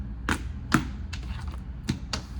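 Tarot cards are shuffled in a few quick riffling bursts, each a short papery flutter, four or five in a row at close range, with no talking.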